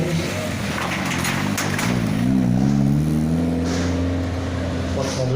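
Porsche 911 historic race car at a rally event in Autun, its engine note rising and falling as it drives past fairly close, loud with a steady roar.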